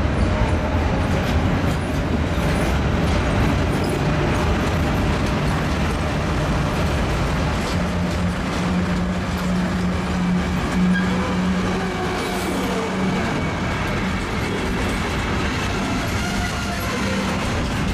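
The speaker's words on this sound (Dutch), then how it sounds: "Met een vertrekkende containertrein." A container freight train in the Euro Rails Alpine region departs at close range, a loud continuous roar of wheels and wagons with a steady engine drone and rhythmic clanking.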